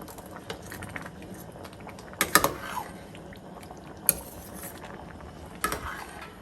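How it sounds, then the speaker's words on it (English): A spoon stirs a thick, hearty pasta sauce in a pot, with soft scraping and a few sharp knocks of the utensil against the metal, fairly quiet and close. "You gotta keep stirring."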